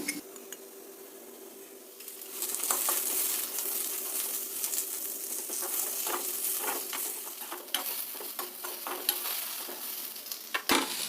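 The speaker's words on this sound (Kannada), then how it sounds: "ಈರುಳ್ಳಿ ಸ್ವಲ್ಪ ಬೆಳ್ಳುಳ್ಳಿ ಇಷ್ಟು ಸಾಕು ಇದಕ್ಕೆ ಸ್ವಲ್ಪ ಎಣ್ಣೆ ಹಾಕ್ಕೊಂಡು ಹುರಿತೀನಿ" Onion and garlic frying in oil, stirred in a pan: a close, continuous sizzle with scattered utensil scrapes and clinks, louder after the first couple of seconds and ending with a sharp knock.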